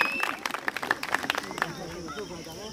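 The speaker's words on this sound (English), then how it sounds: "Claps, please." Audience applause at a school prize presentation at HSS Devsar, a burst of scattered hand claps rising and thinning out over a few seconds, with a murmur of the crowd underneath.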